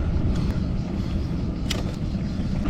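A car rolls past on a rural road beside a cycle route through farmland and vineyards, a broad steady road rumble with light wind noise and a few faint clicks, no talk heard.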